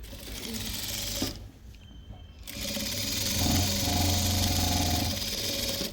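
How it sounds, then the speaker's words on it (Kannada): A sewing machine stitches a pant seam in a steady whirring run. It pauses briefly, then resumes with a louder, continuous motor hum and needle clatter close by. "ಜಾಯಿಂಟ್ ಮಾಡ್ಕೊಂಡ್ಮೇಲೆ ಇದು ಸ್ಟಿಫಾಗಿ ಕುತ್ಕೋಬೇಕು ಅಂದರೆ ಮೇಲ್ಗಡೆಗೆ ಒಂದು ಹೊಲಿಗೆ ಹಾಕೋಬೇಕು"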